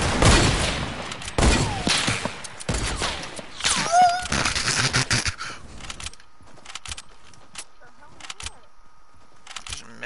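Gunfire rings out in a Fortnite squads match, with sharp loud bursts of shots clustered close together at first, then sparser, quieter single shots trailing off.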